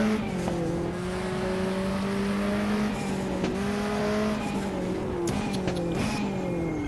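Volvo 240 Turbo race car in a racing video game at the Pau street circuit, its engine droning and shifting pitch steadily through the whole stretch, with brief tire squeals as it corners, loud and close with no talk.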